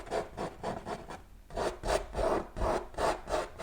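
Oil paint being scraped off a canvas with a palette knife, a series of rough, rasping strokes in a steady rhythm, close and fairly loud, with a brief pause midway and no talking.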